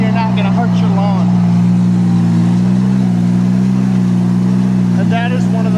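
A compact loader's engine drones steadily and loudly as the machine drives in circles on a lawn, holding a constant mid-pitched hum, with someone talking over it at the start and end.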